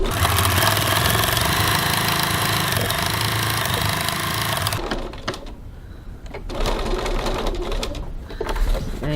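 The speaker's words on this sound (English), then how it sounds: "Now I'm going to top stitch this bottom edge 3mm 1/8 of an inch from the edge." Sewing machine topstitching the bottom edge of a fabric bag, a loud, steady whirring run for several seconds, then short stop-start bursts of stitching with pauses between.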